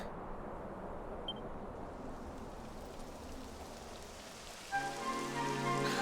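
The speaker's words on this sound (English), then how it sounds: "It would have to go and start raining, wouldn't it?" Steady rain patters on surfaces throughout in the video game Dragon Quest XI S, a dense, even hiss; near the end a soft tonal musical layer joins beneath it.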